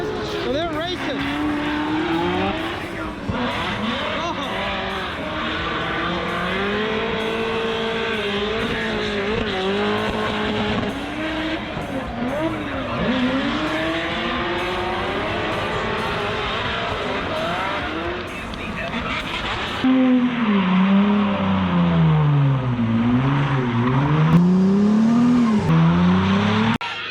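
Drift cars racing at a Formula Drift event, engines wailing and rising and falling steadily throughout, growing louder and closer near the end, with people talking over the noise.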